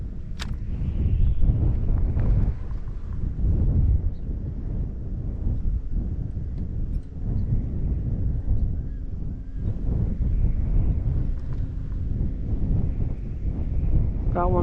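Wind rumbles steadily across the microphone while bass fishing from a boat on the California Delta, a continuous low buffeting with occasional gusts and faint speech beneath it.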